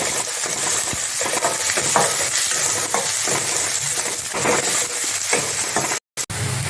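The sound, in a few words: chopped onions frying in hot oil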